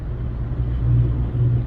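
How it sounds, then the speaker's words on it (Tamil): A vehicle approaches along a road from the opposite direction, a low steady engine rumble that grows slightly louder over a couple of seconds, with no talking. "ஆப்போசிட்டில் வண்டி வந்துட்டுருக்கு."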